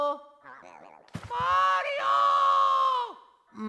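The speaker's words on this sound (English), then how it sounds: "he does a little bit more of a shriek there" Luigi's cartoonish voice in the Luigi's Mansion video game, at low health, calls out and then breaks into a long, loud, wavering shriek that fades away, with a short vocal burst just after.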